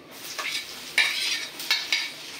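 Chopped garlic drops into hot oil already frying whole spices such as cinnamon, bay leaf and chili, giving a close, bright sizzle with a few sharp bursts and light stirring scrapes, no talking.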